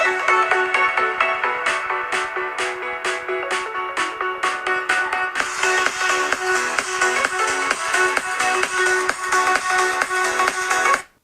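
Music sample played through a Huawei Mate phone speaker, a loud rhythmic tune with steady beats and bright tones, thin and trebly with little low end, ending abruptly.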